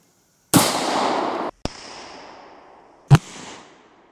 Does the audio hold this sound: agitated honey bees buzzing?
no